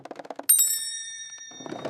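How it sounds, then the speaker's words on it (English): A school bell rings out once with a bright, sustained metallic ding that slowly decays, following quick tapping footsteps and giving way to noisy chatter from children. "The school bell!"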